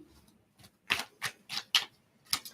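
Tarot cards being shuffled by hand, a series of five or six crisp riffling snaps spaced about half a second apart, close and fairly quiet against a still room.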